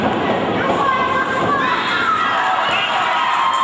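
A wrestling crowd at a late-night show cheers and shouts loudly and continuously, a dense wall of voices with rising excited yells, close and energetic.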